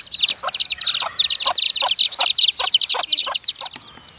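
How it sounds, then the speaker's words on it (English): A mother hen clucks in a quick, repeated series of calls, close and fairly loud, with high chirping from her baby chicks layered continuously on top. "now we're going to put the chicken in and all her baby chicks"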